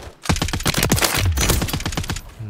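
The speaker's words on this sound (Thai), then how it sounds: "ข้างล่างมีคนยิงกัน" Rapid automatic gunfire in Call of Duty Warzone rattles out in loud, close bursts of sharp cracks, running almost continuously with brief gaps.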